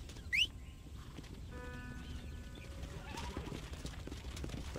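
Horse hooves clip-clop in Red Dead Redemption on a ranch setting, a faint steady trotting rhythm with a brief high whinny near the start over a quiet game ambience.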